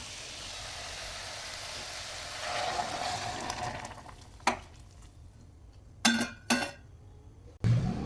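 Steady hiss of a broken wheat and lentil dish cooking in a pan swells as water goes in, then fades, followed by a few sharp clinks of a utensil against the pan.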